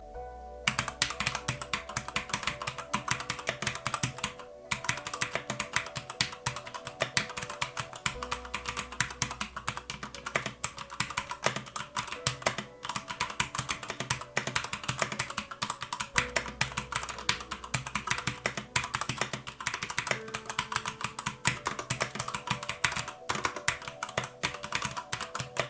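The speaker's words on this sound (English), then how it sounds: "The typing experience is fantastic on the Claymore" Continuous fast typing on an ASUS ROG Claymore compact mechanical gaming keyboard, dense close-up clacking keystrokes in a steady rhythm with no talking.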